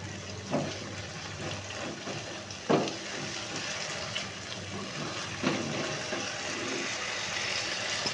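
Water poured into a cooking pan of brinjal curry, a steady low watery wash with a few brief splashy bursts, moderately quiet and alone.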